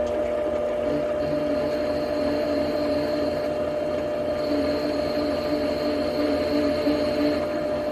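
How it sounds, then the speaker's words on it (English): A metal lathe chamfers the edge of a brass part for a steampunk computer mouse: a steady mechanical whir and hum with faint cutting whine, continuous and fairly loud throughout. "I'll just clean the edge up a little bit here, chamfer it off"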